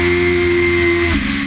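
A Suzuki GSX-S1000F sport motorcycle, powered by the 2005 GSX-R engine, revs with a loud, close, steady drone that dips slightly near the end.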